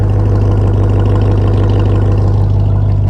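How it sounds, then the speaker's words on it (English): A deep, throaty 2024 Ram TRX pickup engine idles steadily up close, a low rumbling exhaust growl with a lopsided pulsing beat, loud and continuous with no talking. "this exhaust is menacing."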